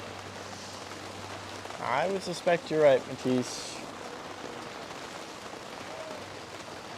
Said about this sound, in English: it sounds like the rain is getting worse